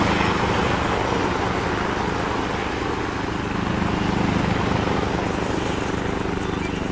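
Steady, loud helicopter rotor and engine drone in the ArmA 3 video game, continuous throughout with a thick low thrum and broadband whine, voices faintly present beneath it.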